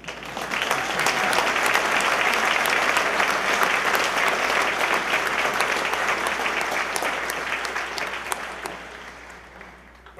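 Sustained audience applause fills a college of health professions commencement ceremony at a medical university, a dense steady roar of many hands clapping for about ten seconds and easing slightly toward the end.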